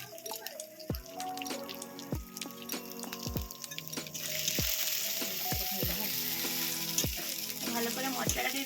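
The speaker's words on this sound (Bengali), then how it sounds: "ভালো করে মশলাটাকে কষে নিচ্ছি।" Turmeric and chili powder fry in hot oil while being stirred, a steady close sizzle with repeated sharp scraping strokes of a spoon against the pan, the hiss thickening partway through.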